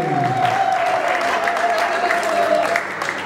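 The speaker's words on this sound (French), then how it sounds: "Applaudissez, s'il vous plaît" Steady applause from a crowd at a mothers' event in Charleroi fills the whole stretch, with a sustained tone running underneath.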